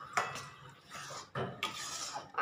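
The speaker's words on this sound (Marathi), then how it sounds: "आता ह्याला सतत हलवत आपल्याला व्यवस्थित शिजवून घ्यायचंय" Puran poli filling stirred in a pot, three or four firm scraping strokes of a spoon against the pot with short pauses between them, close and fairly quiet.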